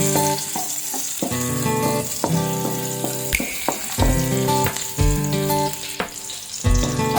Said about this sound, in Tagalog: Lutuin lang natin yung sibuyas sa bawang.